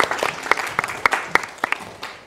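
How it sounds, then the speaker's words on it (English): A small group claps for a couple of seconds at a hybrid conference, scattered hand claps rather than a full crowd, fairly close and crisp. "Give him a little applause."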